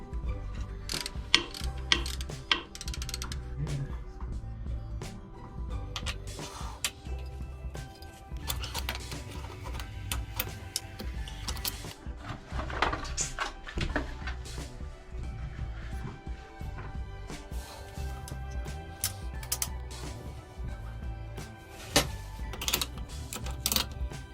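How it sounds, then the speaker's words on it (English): A ratchet clicks in quick repeated bursts while tightening bolts on a DAF diesel pump mount aboard a Dutch barge, close and fairly loud, with intermittent metallic clinks. "So now that it's in position, I can tighten them off."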